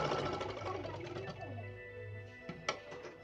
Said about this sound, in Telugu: ఈ విధంగా స్టిచ్ అయితే వేసుకున్నాను నేను